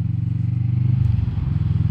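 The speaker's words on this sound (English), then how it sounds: "You can hear the engine's a little bit low at the moment, but the noise, my gosh." Kawasaki Vulcan S motorcycle engine while riding in fourth gear at about 30 mph, a low rumbling throb with rapid regular pulses, steady and close throughout.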